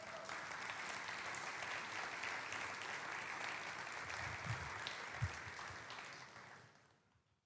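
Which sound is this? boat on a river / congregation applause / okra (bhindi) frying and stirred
congregation applause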